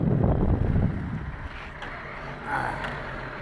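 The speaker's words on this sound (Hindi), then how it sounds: "ये जी शिप ये जा रहा है जी ईरान बंदर अब्बास" A ship carrying motorbikes toward Bandar Abbas, Iran, heard as wind-buffeted rumble and water wash near a port, loud at first then settling to a softer steady drone.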